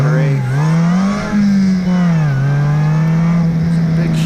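A DF Goblin sports car revs hard through an autocross course, its engine note rising and falling steadily through gear and throttle changes as it is driven around cones, loud and close throughout.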